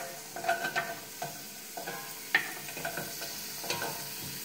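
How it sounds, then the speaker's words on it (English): Carrots stirred in a pan of hot olive oil with minced garlic: scraping stirs and clinks over a light, steady sizzle, with several sharper utensil knocks, close and moderately quiet, no talking. "first we're gonna add our carrots because they take longer to cook"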